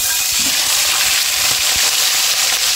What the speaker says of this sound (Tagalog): umpisa natin yan sa pagpiprito sa ating tilapia. Mainit na yung ating mantika